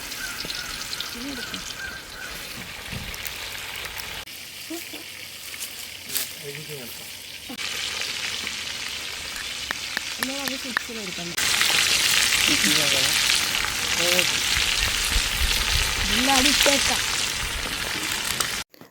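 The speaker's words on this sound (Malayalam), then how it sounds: "നമ്മൾ ചിക്കൻ പൊരിക്കാൻ വേണ്ടിയിട്ടുള്ള പിന്നെ വെളിച്ചെണ്ണ പാത്രത്തിലേക്ക് മാറ്റിയിട്ടുണ്ട്" Chicken frying in coconut oil in a pan over an outdoor hearth in a yard, a constant crackling sizzle that grows louder and denser partway through, with occasional stirring clatter and a person talking at times over it.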